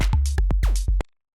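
A punchy synth bass with a pitch envelope in a Romanian minimal house groove, percussive and melodic, thumping low under short clicky drum hits and a swooping sweep in a brief dense loop that stops suddenly.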